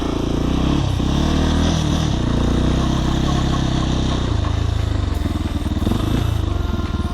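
A Sherco SE-RS 125 enduro motorcycle engine runs loud and steady up close, a rough, throbbing drone with gritty clatter and slight shifts in pitch throughout.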